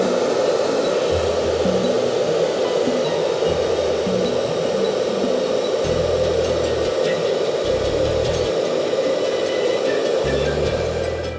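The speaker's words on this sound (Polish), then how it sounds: "Oto moja suszarka wraz z osłonką. Teraz wrzucę do suszarki piłeczkę." A hair dryer fitted with a guard blows a steady stream of air that holds a small ball aloft, making a loud, continuous whooshing roar with low rumbling fluctuations throughout and no talking.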